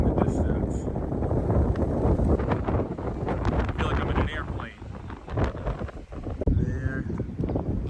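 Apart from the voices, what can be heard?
strong wind on Santorini clifftop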